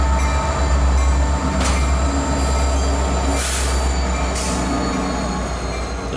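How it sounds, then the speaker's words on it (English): Train wheels roll through a spring railroad switch at a siding, a loud continuous rumble of railcars broken by sharp clicks and bursts of high metallic squeal from the wheels. "Here's a classic spring switch in action."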